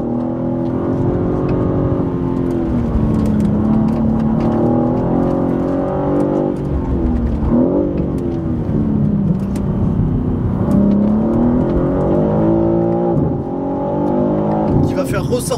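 A BMW M3 CS G80 engine drones steadily as the car is driven hard through twisting corners, its pitch rising and falling with each throttle change, while a person talks over it throughout.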